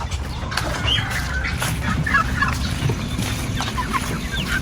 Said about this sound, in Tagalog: Oh, ito yung mga pabo ko.